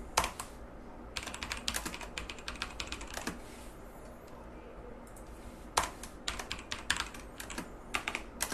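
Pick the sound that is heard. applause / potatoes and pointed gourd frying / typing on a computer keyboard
typing on a computer keyboard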